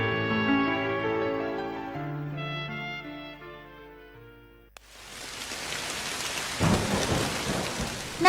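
After a short musical passage fades out, a heavy rainstorm breaks in as a dense, loud hiss of pouring rain, with a deep thunder rumble swelling partway through.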